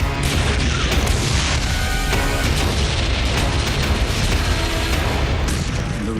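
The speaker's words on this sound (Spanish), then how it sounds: "la Marina lanza un terrible bombardeo" Dense, continuous booming of naval artillery bombarding the Normandy coast, with overlapping blasts and crashes, loud and relentless throughout.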